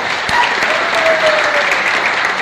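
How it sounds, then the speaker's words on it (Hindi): Loud applause for a captain at a training event, a brief, dense burst of many hands clapping together from a close audience. "ये कैप्टन साहब के लिए जोरदार ताली बजाओ।"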